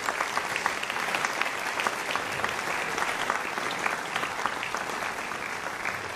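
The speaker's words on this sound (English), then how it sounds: "Big round of applause for all three of those gentlemen." Sustained applause from an audience at a school percussion concert, dense steady clapping filling the whole stretch at moderate level with no talk over it.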